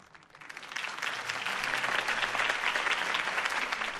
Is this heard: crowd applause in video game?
yes